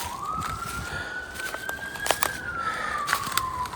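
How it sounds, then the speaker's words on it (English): Ambulance siren wailing on a road beyond a nature reserve trail, a single rising-and-falling tone heard at a distance over crackling footsteps and brush. "Ambulance up on the road somewhere."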